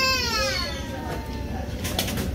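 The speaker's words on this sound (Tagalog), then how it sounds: "Naririnig yung ibon habang kumakain." Outdoor birds call steadily during a meal beside the Aquarium of the Pacific in Long Beach, with warbling, whistled notes close by over a constant background of ambient noise.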